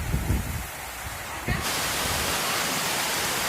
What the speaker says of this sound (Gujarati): ધોધમાર વરસાદ આવી રહ્યો છે